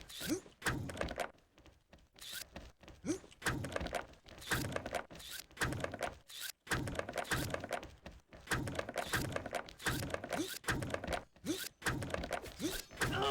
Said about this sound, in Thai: นี่เขายิงกันแบบโคตรเยอะตอนนี้